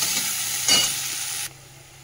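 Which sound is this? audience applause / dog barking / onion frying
onion frying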